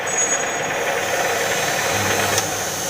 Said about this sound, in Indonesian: Lalu kita hidupkan mesin, yang mana kecepatan mesin tadi sudah kita setting, yaitu 200 rpm